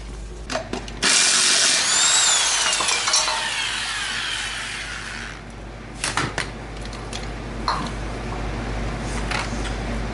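A plug-in electric power tool spins out screws holding trim on a 1988 Chevrolet Caprice box body, with loud close whirring bursts and a long run early on, then short clicks and brief buzzes of the motor.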